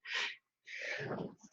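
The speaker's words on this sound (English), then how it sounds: "Now, I'm going to sneeze in a second, so excuse me." A single sneeze, a sharp intake of breath, a short pause, then a loud explosive burst trailing off, close by.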